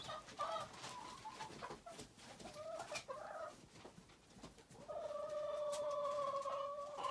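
Busy chirping and peeping of many chicks inside a chicken house, with a steadier, louder chorus of calls building in the second half.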